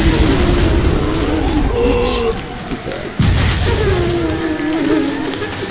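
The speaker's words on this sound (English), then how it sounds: "Throwing a pipe bomb." A pipe bomb in Left 4 Dead 2 goes off in heavy rain, a loud booming blast with a sharp burst midway amid chaotic game noise and droning tones.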